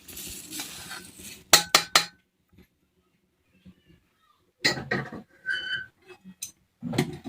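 Roasted sesame seeds scooped from a pan for chutney, a few sharp utensil clinks and scrapes against metal in short bursts separated by quiet gaps.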